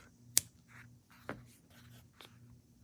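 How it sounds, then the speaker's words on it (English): Scissors snip the old yarn color off a crocheted confetti cake afghan: a few quiet, sharp clicks, spaced about a second apart, in a hushed room. "snip your old color off"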